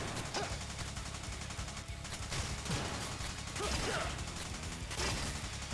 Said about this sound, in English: shooting machine guns at the ground